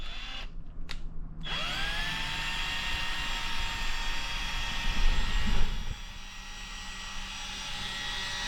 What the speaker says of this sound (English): Just hook up a drill instead of pull the stepper motor, but look at this.